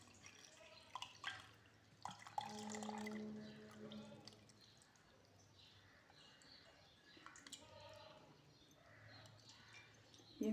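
Cold water is poured over cooked sago pearls in a strainer, trickling and dripping faintly in uneven splashes, with quiet background sounds.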